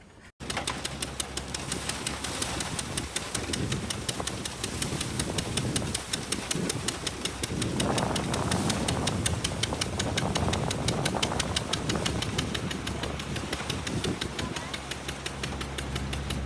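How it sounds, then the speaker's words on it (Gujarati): A threshing machine engine runs steadily, with a dense mechanical chatter and a rapid ticking throb, loud and continuous throughout. "અમારે આજે હલર હાલી રહે."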